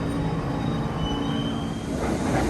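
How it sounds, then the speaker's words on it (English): An R46 New York City subway train rolls past close by, a continuous rumbling clatter of wheels on track with a thin high squeal running through it, no voices. "I only know that this is an R46 because of him."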